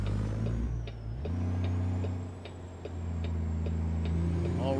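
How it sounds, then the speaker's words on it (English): A Peterbilt 389 car hauler's turn signal ticks in American Truck Simulator, an even run of soft clicks above a loud, steady diesel engine drone that shifts pitch partway through. "Put our blinker on."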